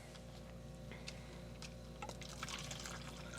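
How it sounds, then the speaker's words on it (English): Apple cider drink mix being poured from a package, a soft granular trickle with a few light taps over faint background hum, no talking. "When you get done pouring that package for a second."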